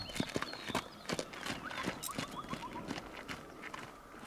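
A stallion in Calatele, Cluj, shifts about with irregular hoof clops and thuds as it moves and settles onto the ground, close by, with faint rustling between the steps.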